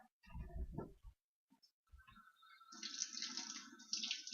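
Hot water runs from a kitchen tap for a few seconds after some clattering handling noises, a steady close hiss of flowing water while dough for pan rolls is prepared.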